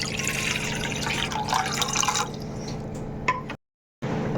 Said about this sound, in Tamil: ஒரு பாத்திரத்தில் தண்ணி ஆட் பண்ணிக்கோங்க.